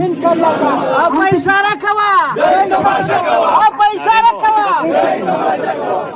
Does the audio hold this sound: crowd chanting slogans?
yes